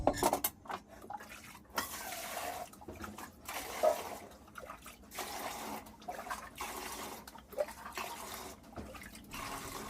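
A bucket and mug are used to change the water for fish, heard as faint, repeated splashes and pours with small clanks in an irregular rhythm, quiet and somewhat distant.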